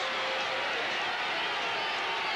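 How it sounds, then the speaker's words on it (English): Home crowd of Seattle SuperSonics fans at a 1980 NBA playoff basketball game against Portland yells for defense, a dense, steady, loud arena roar that fills the whole stretch without letting up. "Now the Sonic crowd yelling defense"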